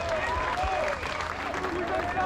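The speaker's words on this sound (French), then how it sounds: "On peut applaudir." At an outdoor national rally on Place du Palais Royal in Paris, a crowd claps in continuous applause while voices carry over it.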